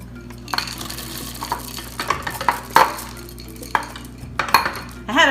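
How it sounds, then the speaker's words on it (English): Pecans and chocolate chips folded into banana bread batter with a spoon in a bowl, giving soft irregular scrapes, stirring swishes and a few light clinks against the bowl, close and alone with no talk. "I'm going to fold in the mix-ins"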